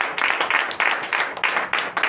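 A congregation at a Sunday church service in Benin claps in a rhythmic pattern, loud, evenly spaced bursts of many hands keeping a quick steady beat.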